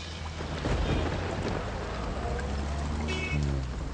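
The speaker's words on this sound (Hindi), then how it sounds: "धृति को ऐसी बेमौसम बारिश अच्छी लगती थी" Unseasonal rain with rolling thunder, used as a sound effect in a Hindi radio story; steady rainfall hiss with deep rumbles throughout, fairly loud and continuous, no voices.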